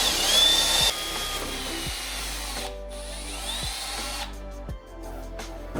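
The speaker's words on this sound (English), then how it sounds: "guide your drill bit so you can drill a nice straight hole" Power drill boring a hole through a car hood for an Aerocatch hood pin, a loud close whine that rises and dips as the bit bites and slows, then settles to a steadier grind.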